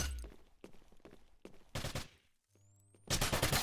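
Gunfire crackles in a competitive team shooter match. Bursts of shots come in clusters with a brief quiet gap, then a loud sustained volley at the end, all close up with no one talking.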